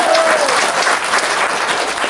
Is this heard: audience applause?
yes